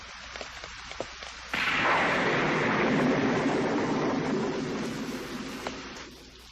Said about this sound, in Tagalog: Naku, umuulan!